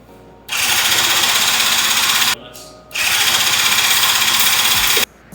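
A classic Japanese car's engine cranking over in two long, loud whirring bursts close by, with a brief pause between them.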